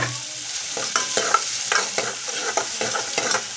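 Chopped capsicum for pav bhaji is stirred and fried in a pan, with a steady close sizzle broken by repeated scraping spoon strokes at a regular rhythm, and no voices.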